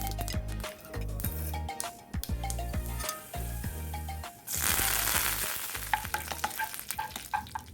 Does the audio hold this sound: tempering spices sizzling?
yes